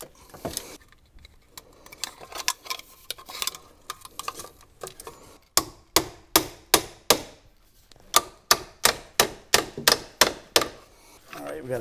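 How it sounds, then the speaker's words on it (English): A hammer drives a nail into a wooden king stud during electrical work in a house frame, sharp close knocks in uneven bursts, then a fast, steady run of strikes. "nail that to the king stud"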